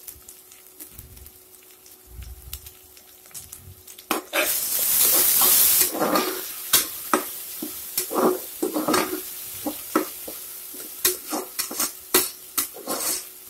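Soya beans frying in a pan: quiet pan noises at first, then a burst of sizzling followed by repeated scraping and clinking of a spoon stirring, close and uneven.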